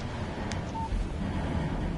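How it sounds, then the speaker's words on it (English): A text message alert on a phone in Alan Wake Remastered sounds as a brief, faint electronic beep over a steady, windy outdoor hiss. "Text message from Barry."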